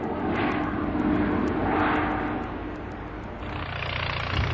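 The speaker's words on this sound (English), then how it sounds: "the prop fan, designed to satisfy the demand for greater fuel economy and reduced noise footprints" Prop fan aircraft engine, a propeller design built for better fuel economy and a smaller noise footprint, giving a steady loud droning roar that swells and fades slightly, heard alone without voices.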